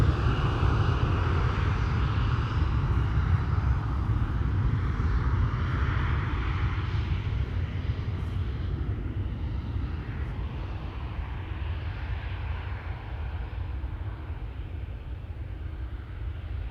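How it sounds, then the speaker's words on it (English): A KLM Embraer 175 jet takes off from Amsterdam Schiphol, a loud, sustained engine roar that slowly eases and thins as the aircraft climbs away. "Turning and burning. KLM flight 1367 to Budapest. Embraer 175,"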